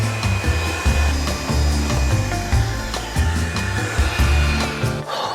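Battery-powered handheld vacuum with a hose sucking up debris around a Honda Shadow motorcycle frame: a loud, steady whine with rattling knocks as debris is drawn in.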